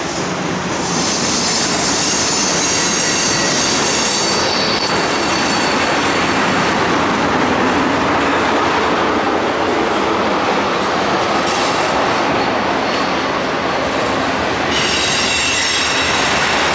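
A train rolls past with loud, sustained metallic wheel squealing over a steady rumble and rail clatter, continuous throughout, in Marshall, Texas, USA.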